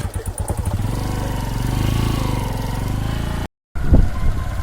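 A motorcycle labours along a rough hill road with a close, throbbing engine and rattling clatter, then cuts out for a brief gap before revving again with a few knocks.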